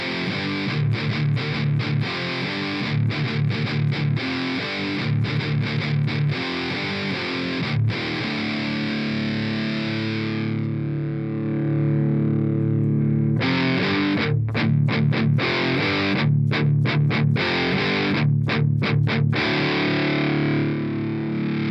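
Heavily distorted metal guitar played through a MESA amp simulation in AmpliTube 4, loud and dense, with rhythmic palm-muted chugs and stops and a sustained ringing passage in the middle, no voices.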